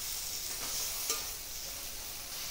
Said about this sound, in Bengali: এখন ভালো করে একটু লাইড়া চাইড়া একটু ঢাকনা দিয়ে দেবো।